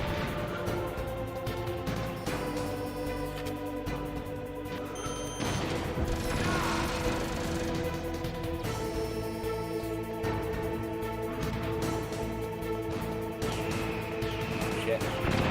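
Missiles explode during a Metal Gear Solid battle against Metal Gear Rex, a dense stretch of crashing blasts and grinding mechanical game noise layered over tonal music, loud and continuous throughout.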